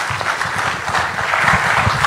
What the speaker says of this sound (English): we all would like to express to you very loud applause